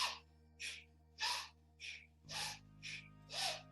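Deep breaths during breathwork practice come as a steady series of about seven forceful, airy inhales and exhales, close and fairly loud, evenly paced, with a soft background hum and no talking.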